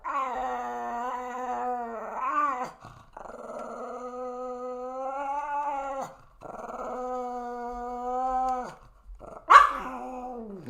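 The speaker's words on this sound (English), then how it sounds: "Okay, buddy, you can't bark." A dog growls and barks in long, drawn-out whining, howl-like vocalizations, three sustained bursts close to the microphone with short pauses between, ending in a sharp yelp.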